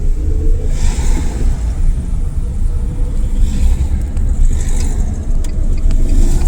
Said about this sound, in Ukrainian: Добавляємо газу і на другу передачу.